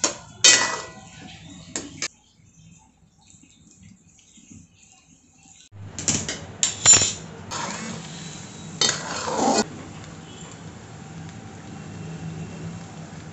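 Coconut rice (naral bhat) is stirred in a metal pot, with close scraping and clinking of a spoon against the pot in short bursts separated by quiet pauses.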